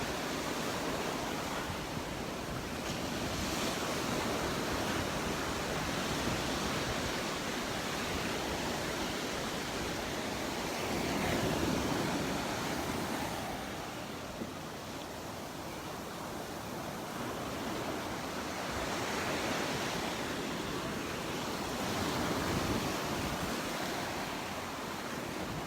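Ocean surf at Crystal Beach in Destin, Florida, a continuous broadband roar of breaking waves that swells and eases in slow surges, with no voices over it.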